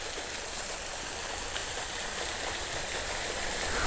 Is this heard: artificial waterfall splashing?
yes